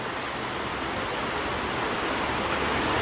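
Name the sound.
waves on the shore of Lake Michigan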